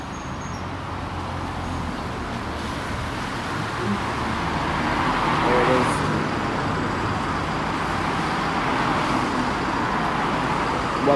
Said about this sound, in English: here it comes, the number 11 going to Wolverhampton bus station.